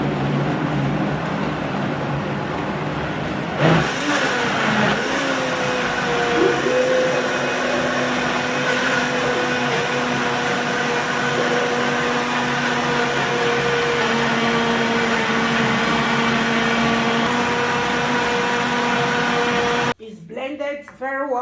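An electric blender whirs steadily while it purées cut tomatoes for homemade tomato paste. A thump marks the start, then the motor pitch settles into a long, even drone, close by, and cuts off near the end.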